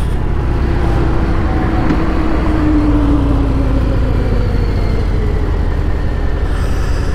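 Engine of a 2022 Harley-Davidson Fat Bob motorcycle after a downshift on the highway, a steady loud rumble with a tone that slowly falls, under continuous road and wind noise with no talk.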